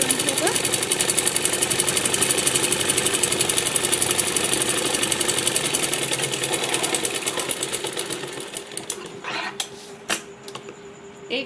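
A sewing machine stitches a seam on a salwar, a fast, steady mechanical whir with rapid needle clatter that runs continuously for most of the time, then slows and breaks into a few short bursts before stopping.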